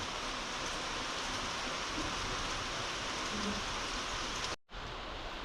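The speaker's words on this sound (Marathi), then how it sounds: "पाऊस चालू झाला परत थोडा वेळ थांबावं लागला" Steady rain pours down evenly and continuously, a soft wash of patter that cuts off abruptly near the end.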